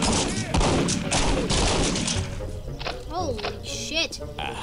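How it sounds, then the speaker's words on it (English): Grenades explode in a chaotic video game battle, loud bursts piling up at the start and fading into scattered gunfire-like cracks, with voices talking over the combat throughout. "Grenades!"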